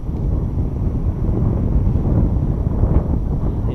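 Strong wind buffets the microphone outdoors by a golf course pond, a loud, continuous low rumble with no speech.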